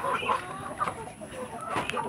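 Free-range breeder chickens cluck and chatter softly while being given feed in a backyard farm, scattered short calls over a low outdoor hum, with a voice talking nearby.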